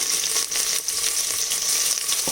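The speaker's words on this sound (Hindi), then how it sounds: "तेल गर्म हो गया है। अब इसमें एक बड़ी प्याज मैंने चॉप करके डाली है।" Chopped onion crackling and sizzling in hot oil, a loud, continuous hiss with small pops throughout.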